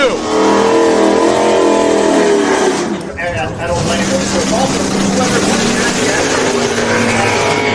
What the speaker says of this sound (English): Matt Sweet coming up next to the natural aspirated Disco Nova on the right-hand side along with his brother Magnus. Left-hand side the Camaro